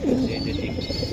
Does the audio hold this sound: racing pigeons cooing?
yes